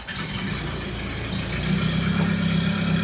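A Corvair-based turbocharged car called the Golden Nug runs at a steady idle up close, a continuous low engine rumble that swells slightly louder partway through, with no voices.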